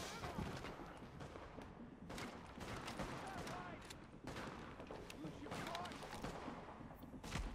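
Enemy gunfire rattles in The Division video game, with repeated bursts and volleys of shots cracking throughout at moderate distance amid a busy combat soundscape.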